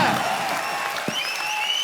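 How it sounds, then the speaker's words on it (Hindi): Studio audience on a Hindi comedy talk show breaks into brief, dense clapping that stays even and close for just under two seconds, with a faint voice underneath. "चलिए तालियां"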